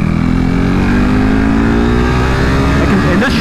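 A KTM RC 390 Cup race motorcycle on a track at Adams Motorsport Park, its engine droning loud and steady at high revs with rising pitch and wind rush, heard up close from the rider's position.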